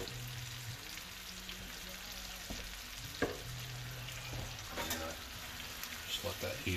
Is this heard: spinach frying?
yes